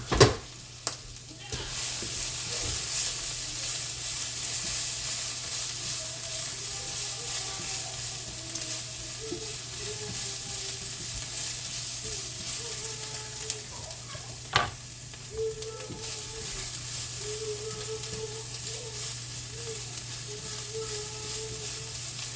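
Spanish-style rice sizzles steadily in a frying pan as it is stirred, with a constant frying hiss and occasional utensil scrapes and clicks nearby.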